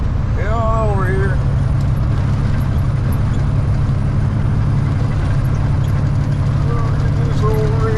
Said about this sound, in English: Get this old rig rolling here